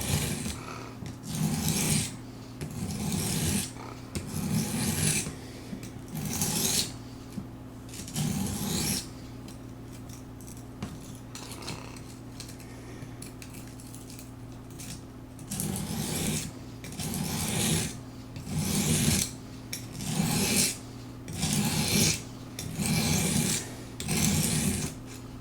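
A knife sharpened on an Apex Edge Pro system, with repeated close abrasive strokes of stone on steel in a regular back-and-forth rhythm, briefly pausing around the middle before continuing steadily.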